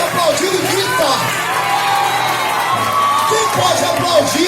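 A church congregation in Barcelona cheers and shouts loudly, a dense crowd roar with whoops and raised voices sustained throughout, close and energetic.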